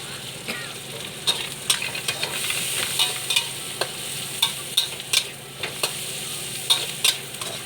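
Crispy pork stir-fried with chili and onion in a pan for holy basil pad kaprao: a steady close sizzle and crackle with repeated sharp spatula scrapes and clacks against the pan, no talking.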